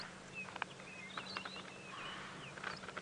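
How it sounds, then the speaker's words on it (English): Distant robins and canaries trill at sunrise on a safari drive, with short thin chirps and warbles scattered over a quiet, low background hum. "I hear just the sweet trilling noises of robins in the distance"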